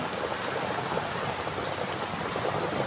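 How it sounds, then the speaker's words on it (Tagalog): Heavy afternoon rain hisses down on surfaces in a town, a dense, even patter with no voices. "Kayang-kaya ang ulan."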